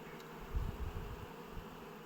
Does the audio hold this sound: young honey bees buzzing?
yes